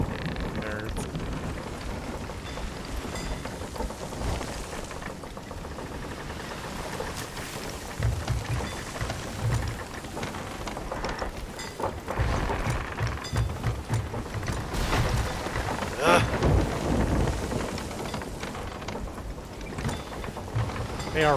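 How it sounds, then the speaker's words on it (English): A video game thunderstorm batters a sailing ship with steady heavy rain and deep rolling thunder that swells in the second half, a continuous loud wash with no voices over it. "I'm just on the edge of the storm."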